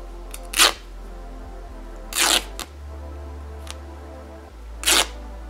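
Fabric is ripped by hand into strips for a DIY Valentine heart wreath. The short, sharp tearing bursts come close and fairly loud, about three or four separate rips with pauses between them.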